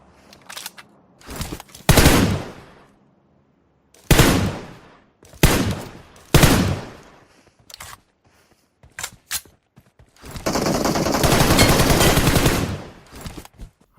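Bursts of gunfire crack out in several loud volleys during an Onam comedy skit, separated by pauses, with a sustained rattling burst near the end and shouting voices between shots.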